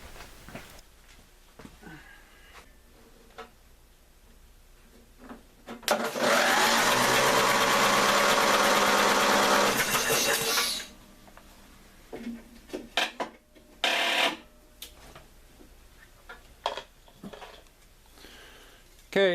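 Starter on a Craftsman lawn tractor cranks hard for about five seconds when a booster pack is connected straight across it, a loud steady whirring burst, followed by scattered clunks and handling noises.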